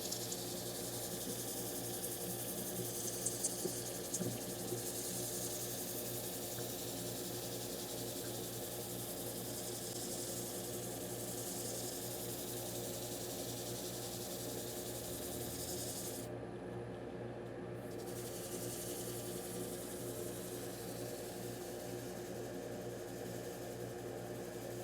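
Wood lathe turning a black walnut bowl at about 330 RPM during sanding with 320 grit, a steady low hum and faint rubbing hiss that hold unchanged for the whole stretch, with no talk.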